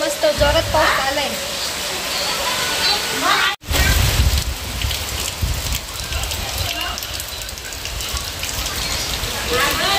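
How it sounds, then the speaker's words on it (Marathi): Heavy rain pours outside the house, a loud steady rushing patter with a brief dropout partway through, and faint voices underneath. "खूप मस्त जोरात पाऊस आलाय."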